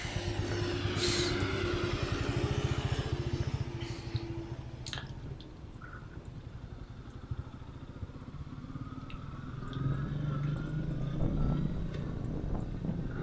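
A Royal Enfield Meteor 350 motorcycle ridden through town streets in Queanbeyan, a steady low engine drone with wind buffeting, easing off midway and then building again, no voices.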